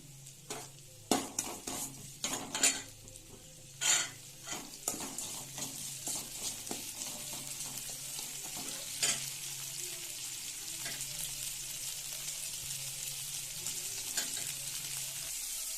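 Tomato and onion sauté with salt in a pan for okra tamarind curry, a steady sizzle and fry with scraping stirs and clinks early on, then a continuous frying hiss.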